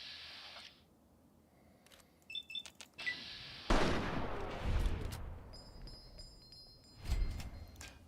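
Rifle fire in Fallout 3: after a quiet stretch with small clicks and beeps, a loud nearby gunshot hits with a lingering rumbling tail, followed by a second heavy blast a few seconds later.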